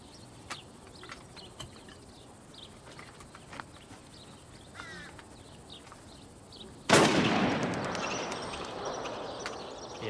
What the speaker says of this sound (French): Prends le fusil, tire un coup dans le bois.